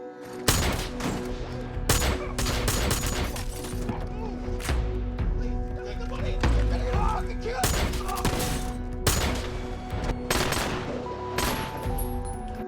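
Film gunfire crackles in sharp, loud bursts of several shots, irregularly spaced and layered over a dense, tonal background score.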